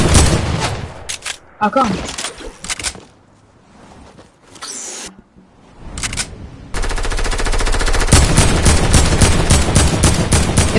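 Gunfire in a video game, with rapid bursts of automatic shots in clusters, a quiet gap, then a long, sustained, loud volley; a player speaks briefly amid the shooting.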